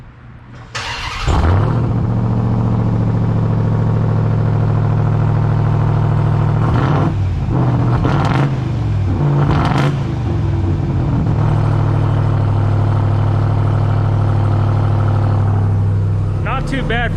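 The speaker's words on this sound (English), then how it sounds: "start it up and give you a couple baby revs of the stock exhaust" A Ram TRX pickup truck with its stock exhaust cranks and fires up, settles into a loud, steady rumbling idle, then gives a few short throttle blips spaced seconds apart before returning to idle.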